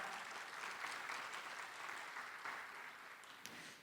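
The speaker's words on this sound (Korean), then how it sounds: "여러분 모든 분들께 다시 한번 큰 박수 보내주시기 바랍니다" Applause from the crowd at the opening ceremony of the 2021 Korea Innovation Expo, a continuous, even patter of many hands heard at a soft, distant level.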